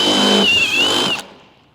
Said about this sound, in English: we'll use a step drill bit